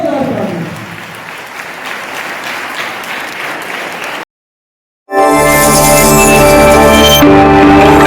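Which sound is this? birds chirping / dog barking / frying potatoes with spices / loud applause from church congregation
loud applause from church congregation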